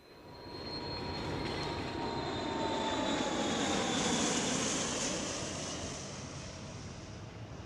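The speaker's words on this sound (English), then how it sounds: "James Brady is at the airport" A loud, broad engine roar at an airport swells and then eases back, with a faint high whine riding on top; no voices are heard.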